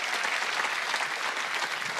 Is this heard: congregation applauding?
yes